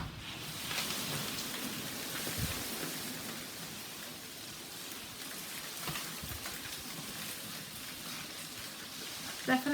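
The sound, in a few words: hailstorm, heard through an open door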